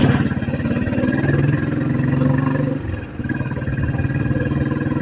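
A motorcycle engine rumbles close and steady while riding, throttle held with a brief dip in pitch and loudness before pulling again, overtaking under wind noise.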